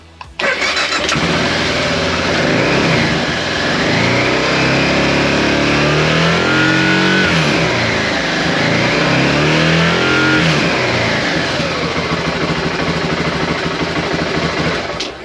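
A BMW F650GS motorcycle engine runs steadily and loud for the whole stretch, with slow rises and falls in pitch as it is revved, then it settles back; no voices are heard.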